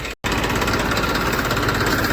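A farm tractor's engine runs steadily at the site where rain-soaked paddy grain is to be fed into a threshing machine, a continuous close mid-pitched diesel drone with a brief dropout near the start.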